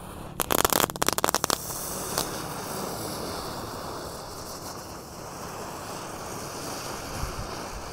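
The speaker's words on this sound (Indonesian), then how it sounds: "ada gangsing super 3 warna atau roda gila, kita nyalakan 5 biji sekaligus guys" Five or six three-colour ground spinner fireworks lit at once burn with a steady, close rushing hiss, opening with a rapid burst of sharp crackles before settling into a continuous roar.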